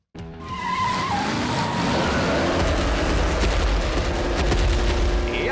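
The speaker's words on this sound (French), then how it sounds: "Le plus urgent, C'est de faire crisser les pneus." Cartoon tires squealing in a Hot Wheels City scene, a loud sustained screech with engine roar and skidding that kicks in abruptly and stays intense to the end, with no voices.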